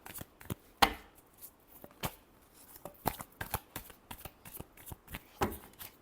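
A deck of cards being shuffled for a weekly horoscope reading, giving a series of crisp riffles and taps in irregular bursts, close and fairly quiet, with no talking.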